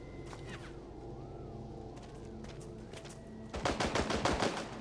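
Rapid automatic gunfire from a firearms simulation range in the game Chernobylite 2, a dense burst of close shots closing the stretch over a steady low ambient hum, with scattered fainter pops earlier.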